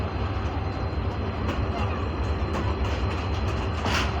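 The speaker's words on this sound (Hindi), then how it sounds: "ये पाक बिजनेस एक्सप्रेस की भी कोच आ गई है।" A Pak Business Express train coach rolls into Multan station, a steady loud rumble of wheels and rail noise that fills the whole clip, with faint station activity behind it.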